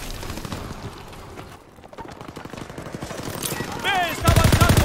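Gunfire and machine-gun bursts in a World War II video game, rapid rattling shots mixed with shouted voices, a brief lull, then a loud blast near the end.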